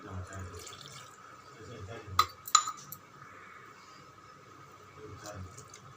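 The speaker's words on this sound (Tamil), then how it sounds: "1 டம்ளர் பால் காய்ச்சி வச்சுருக்கேன். அப்படியே சேர்த்துடலாம்." Boiled milk pours into a pot of cooked rice and lentils for a festive pongal, a soft liquid wash with a couple of sharp metal clinks from the vessel midway.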